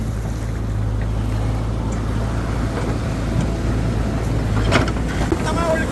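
Lagoon water surging out to the sea through a freshly cut sandbar, a loud, steady broadband rush with wind and wave wash that swells slightly toward the end and holds throughout.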